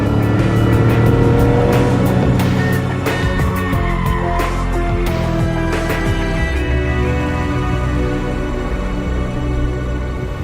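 Porsche 911 Carrera G-Series driven hard through corners on a track, engine loud and close as it pulls through third gear, with a strained, rising note and a brief tire squeal, no talk.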